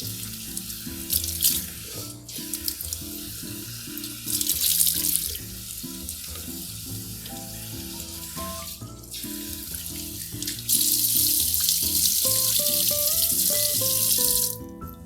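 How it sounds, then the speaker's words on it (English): Water pours steadily from a faucet during a final rinse of a wig with a silicone insert, a continuous splashing hiss that grows louder as the flow shifts, with soft background music underneath. "I'm going to do one final rinse under the faucet just to make sure I got everything out"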